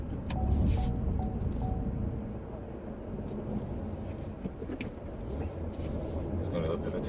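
Steady low engine and road rumble inside the cabin of a 2019 Vauxhall Insignia Grand Sport 1.5T SRi manual on the move, continuous and fairly even for the whole stretch.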